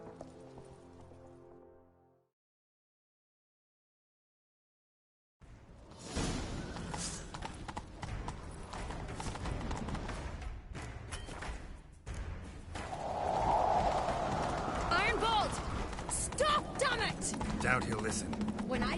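Horse hooves clip-clopping at a run in The Witcher 3, a steady hoofbeat rhythm under game music and effects after a brief silent gap, with voices speaking at times.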